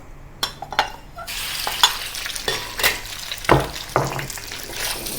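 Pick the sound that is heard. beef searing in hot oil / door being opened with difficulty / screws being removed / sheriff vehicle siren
beef searing in hot oil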